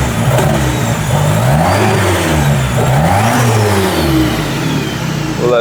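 A repaired Nissan KA24DET turbocharged four-cylinder car engine runs steadily up close, its loud, continuous drone swelling and easing slightly in pitch with no talk over it.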